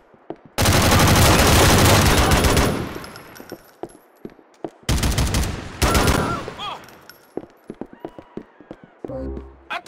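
Loud automatic gunfire in the video game Grand Theft Auto 4, two long sustained bursts with a shorter volley between them, followed by scattered single shots and game sounds.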